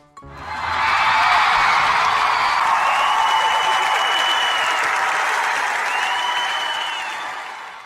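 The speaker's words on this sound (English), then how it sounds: "clap your hands" Steady, dense applause from an audience, rising quickly and sustained at full strength for several seconds before tapering slightly at the end, with no talk over it.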